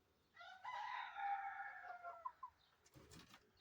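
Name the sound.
chickens clucking and rooster crowing on a farm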